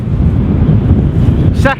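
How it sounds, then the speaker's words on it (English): Steady, heavy wind buffeting the microphone in a low roar throughout, with a brief higher tonal sound near the end, while sea fishing at Bispham. "Still very windy."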